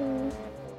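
Tires on a Mini Cooper S squeal briefly during a Monte-Carlo rally stage in DiRT Rally, a short high-pitched screech over the engine's steady drone, with no talk.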